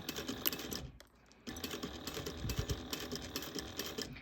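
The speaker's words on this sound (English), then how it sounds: "I'm going to be sewing around at an 1/8 of an inch" A sewing machine stitches a laptop bag in quick, rapid mechanical bursts, pausing briefly about a second in before running on steadily at close range.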